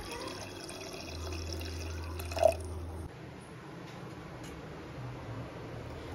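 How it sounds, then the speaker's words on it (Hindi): Water added to a pot of spiced chickpeas with bay leaf and garam masala, a short trickle and drips with a brief splash midway before the flow stops. "अब हम इसमें पानी ऐड करेंगे"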